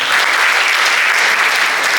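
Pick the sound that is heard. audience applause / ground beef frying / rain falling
audience applause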